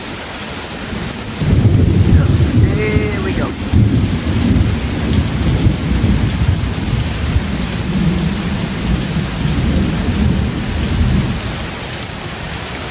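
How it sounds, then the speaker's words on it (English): Thunderstorm with steady heavy rain drumming close by and a deep thunder rumble building after the opening seconds, continuing loud and unbroken; a brief spoken phrase early on. "bit of thunder and lightning going on."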